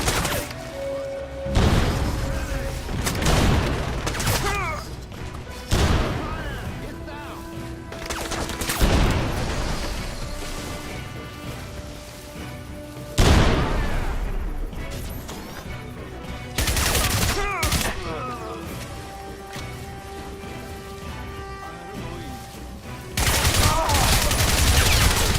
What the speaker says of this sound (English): Use grenades to blast your way through. Throw some more grenades,